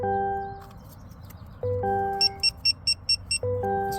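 A Geotab telematics device plugged into a 2025 Chevy Equinox EV gives a series of short, evenly spaced electronic beeps over a steady chime-like tone that sounds several times amid low cabin hum.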